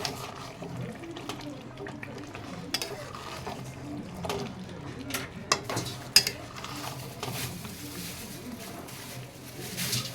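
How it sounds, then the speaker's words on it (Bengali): Chicken being stirred with garam masala in a pot for biryani, a steady run of utensil scrapes and clinks against the metal, with a few sharper knocks near the middle, over a low kitchen background with faint talk. "এবার আমি ওপর থেকে অল্প একটু গরম মশলা অ্যাড করে দেব। ভালো করে নাড়িয়ে নেব।"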